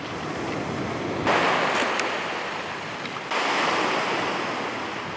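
Ocean surf washes onto a beach at night as the tide comes in, a steady broadband roar with two louder surges of breaking waves, close and continuous, with some wind buffeting the microphone.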